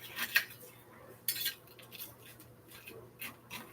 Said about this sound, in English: I'm just going to take my spatula and flip them